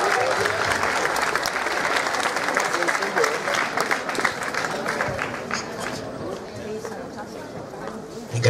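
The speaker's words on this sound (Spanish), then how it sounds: "un aplauso por ustedes" An audience at an urban festival claps in sustained applause, a dense crowd of hands close by that holds steady and then thins toward the end, with a voice speaking over it.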